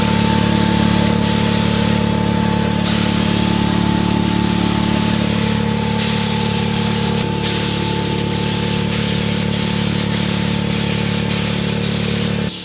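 A spray gun lays color onto a car hood scoop with a loud continuous hiss, broken by short pauses between passes.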